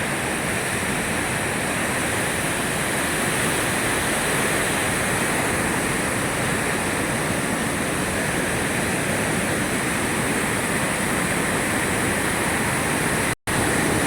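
A steady, loud roar of the Godavari River's swollen monsoon floodwater pouring fast, a continuous broadband rush that holds level for the whole stretch, dropping out for a split second near the end, with no talking.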